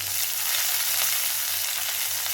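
Mustard seeds and curry leaves frying in hot oil for a Pollachi-style tomato kuruma give a steady, dense sizzle with a low hum beneath, continuous and close throughout.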